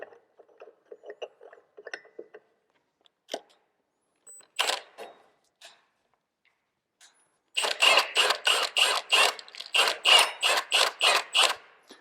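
Rapid burst of ratcheting impact-tool rattles as a clutch pulling tool is screwed into a Can-Am Outlander/Renegade 850/1000 primary clutch, following scattered small metallic clicks and taps; close and fairly loud.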